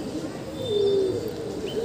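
A homing pigeon coos in a single short, smooth note close by, set against a faint background hiss after heavy rain.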